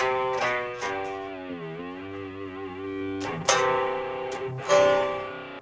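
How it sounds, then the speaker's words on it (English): Electric guitar played through the spring reverb of a BOSS Katana MK2 amp, sustained distorted chords ringing out with a splashy reverb tail, two fresh strikes near the end, played alone without talk. "Here's just that spring reverb."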